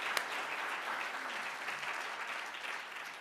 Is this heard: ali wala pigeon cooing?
no